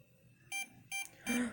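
Three short electronic beeps pulse in quick succession, fairly quiet, over a soft background hum.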